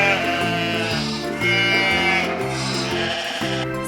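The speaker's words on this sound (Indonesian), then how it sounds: "Kambing mengembik." A goat bleats repeatedly in loud, close, wavering cries, one call quickly following another for a few seconds.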